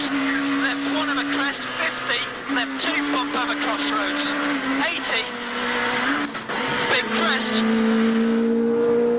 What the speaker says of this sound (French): Martin Rowe qui attaque, il va se retrouver ici au limiteur à fond de 6.